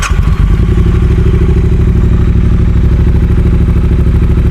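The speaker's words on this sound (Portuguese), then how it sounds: "O que vocês estão achando do som dessa ponteira? Em baixa rotação." A Triumph Bonneville motorcycle fitted with an aftermarket exhaust idles at low revs, a loud, close, steady pulsing thump with a slight clatter after a brief start-up, with no talking over it.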